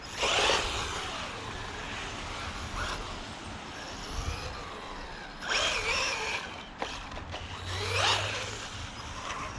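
A cheap RC car drives on wet pavement, making a whirring motor buzz with a hissing tire spray that swells and fades several times as it passes at moderate distance, with no one speaking.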